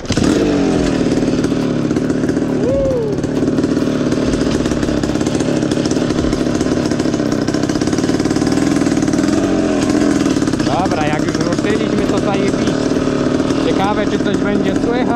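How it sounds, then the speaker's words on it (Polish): A KTM SX 250 dirt bike engine running loud and close on a GoPro microphone, a continuous raspy two-stroke drone with rising and falling revs, with voices mixed in. "chociaż strasznie głośno ten SX chodzi"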